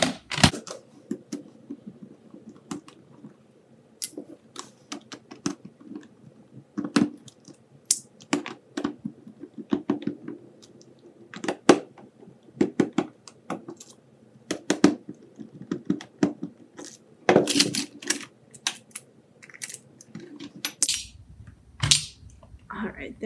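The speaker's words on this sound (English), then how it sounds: "And so I am going to take out the screws." Screws are removed from a VHS player's casing, producing a scattered series of sharp, close clicks and taps of uneven rhythm, with some speech mixed between them.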